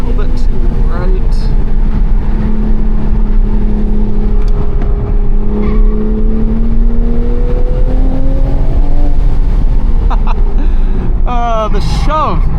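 A 2023-2026 Toyota GR Supra under performance driving, its engine droning and rising in pitch as it accelerates, loud and close inside the car, with a driver talking over it.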